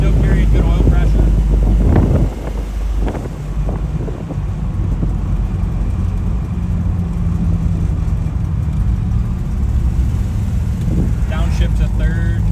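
A 1972 Dodge Dart Swinger runs at highway speed, its engine and road noise a loud steady rumble mixed with wind buffeting, with a downshift to third near the start and someone talking over it.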